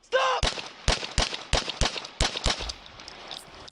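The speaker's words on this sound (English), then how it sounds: "That was 7 shots." Seven sharp, loud gunshots crack in rapid, uneven succession during a recorded police shooting, preceded by a brief shouted voice, with the shots echoing slightly.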